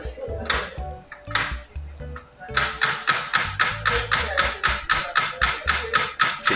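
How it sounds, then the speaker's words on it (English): A new HP M612 printer's faulty gear knocks in a fast, regular rhythm, each knock sharp and close, with a louder stretch of steady clacking after a brief uneven start. "This is a knocking sound."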